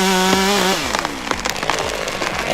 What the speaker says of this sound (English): The Steel MS 462 chainsaw is a high-performance saw clearly designed for